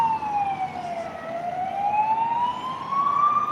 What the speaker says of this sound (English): I think there is another police car coming up now.